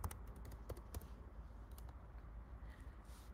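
Someone types an email address on a computer keyboard in quick, light clusters of key clicks with pauses between them, faint and close in a quiet room.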